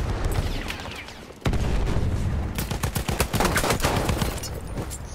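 Gunfire rattles through a Battlefield 1 video game match, a loud dense burst of rapid shots and cracks after a short lull, close and continuous, with no voices.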